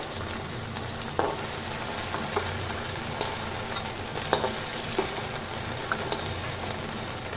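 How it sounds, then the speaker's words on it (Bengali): Okra sautéing in oil in a pan, a steady soft sizzle with scattered clinks and scrapes of stirring at irregular intervals, close and moderately quiet, no talking. "এখানে আমার ঢ্যাঁড়সটা সাঁতলানো হয়ে গেছে ভালোভাবে"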